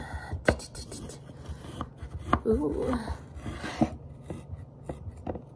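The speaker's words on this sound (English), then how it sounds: "That's the sound of cutting a cookie out." Faint scraping and crunchy cutting sounds of cookies being cut out of frozen dough, with a few sharp clicks, close up, and a brief voice exclaiming once.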